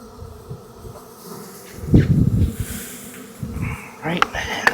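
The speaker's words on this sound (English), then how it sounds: "All right, all leaving, and there's a ton of bees in here." A swarm of bees flies out of a hive cutout, buzzing close under a man's speech, with rustling and bumping handling noises.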